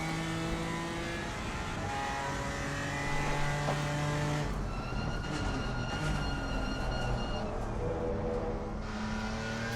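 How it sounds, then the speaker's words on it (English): A BMW GT4 race car engine in a racing game at Zolder, a steady loud drone with rising and falling harmonic tones and no talking. "BMW sounds a lot like the M2"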